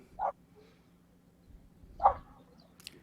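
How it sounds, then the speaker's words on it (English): Two short dog barks a couple of seconds apart, moderately distant, over a low steady hum. "I hear a dog there barking"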